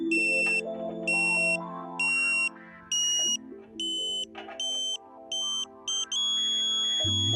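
A string of loud electronic beeps from a satellite meter aligning a KA-SAT dish, in uneven pulses, some short and some held, ending in a sustained unbroken tone; no voices.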